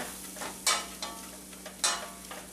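Butter and flour roux being stirred in a pan for a cheese soufflé, a close soft sizzle broken by repeated scraping strokes of a utensil, two of them sharper and louder.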